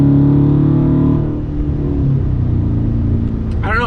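A 2019 Dodge Charger R/T fitted with an aFe cold air intake, its engine droning loud and close from inside the car as the throttle is eased on, a steady rumble that shifts pitch while the car drives.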